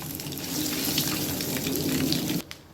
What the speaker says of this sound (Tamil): முட்டை இப்போது நல்லா ஃப்ரை ஆகிடுச்சு